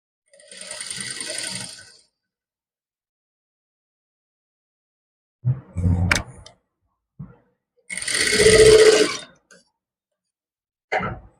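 A sewing machine stitches a trouser pocket in short runs of whirring stitches separated by pauses, close and clear, with no talk over it.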